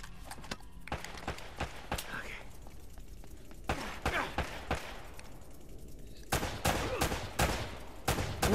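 Gunfire in the video game Uncharted: Drake's Fortune: bursts of sharp rapid shots and single cracks at moderate level, with quieter gaps between volleys.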